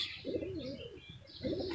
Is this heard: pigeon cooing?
yes